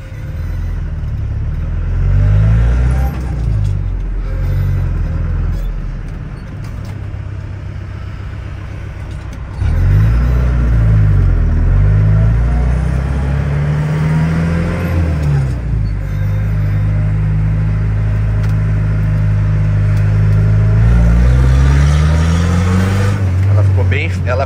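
A lowered 1997 Ford F150 XLT Lightning pickup is driven, its engine droning loudly with repeated rises and falls in pitch as it accelerates and shifts. People talk over the engine noise.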